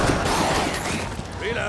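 Shotgun fire from the SSG in the video game Rainbow Six Siege, a dense, continuous burst of gunfire under people talking.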